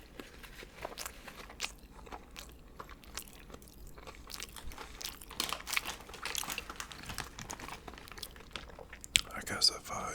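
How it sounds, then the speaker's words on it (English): Close crunchy bites and chewing of a sandwich, irregular crackles of food being eaten, with soft whispery noises and faint rustling in between. "if you don't like crunchy sounds, that's the end of the video for you"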